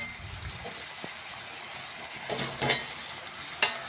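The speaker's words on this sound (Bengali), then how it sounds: "আলুটাও ভালোভাবে মশলার সাথে কষিয়ে নিচ্ছি।" Potatoes, already fried with salt and turmeric, are stirred with spices and softened tomato in a pan, making a low, steady sizzle with a few louder scraping stirs near the end.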